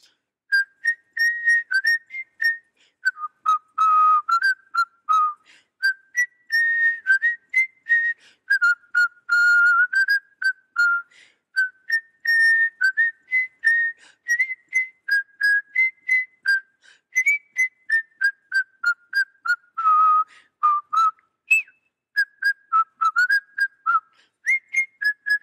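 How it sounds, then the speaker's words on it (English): A clear, close solo whistler carries the hymn tune "If I Were a Butterfly" in short, steady melodic phrases with brief breaths between them during a children's liturgy. "Let's whistle it, okay?"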